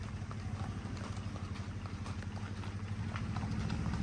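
A pair of horses being unloaded from a tempo goods vehicle: soft, rapid clip-clop of hooves on a hard surface, faint and steady throughout with a low rumbling background.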